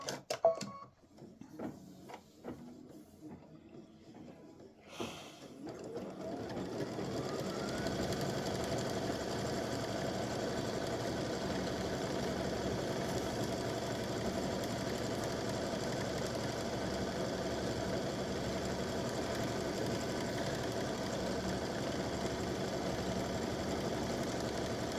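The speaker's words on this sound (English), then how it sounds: "it's going to stitch color stop number 5," Embroidery machine stitching applique stripes, starting after a few seconds of handling clicks and then humming and tapping steadily, close and continuous for the rest.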